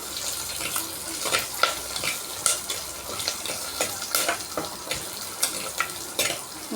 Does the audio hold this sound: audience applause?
no